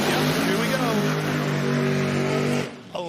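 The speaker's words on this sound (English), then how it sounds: "I hear cars." Drag racing cars at Bradenton Motorsports Park in Florida: a loud, steady engine roar that holds for over two seconds, then cuts off abruptly, with an announcer's voice talking over it.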